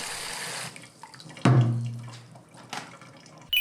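Clear tap water gushes suddenly in a kitchen where lentil bread is being made. A loud splashing onset tapers into a steady running stream, then stops, and a brief second burst follows.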